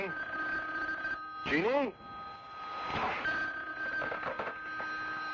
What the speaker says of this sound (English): you'd better answer the phone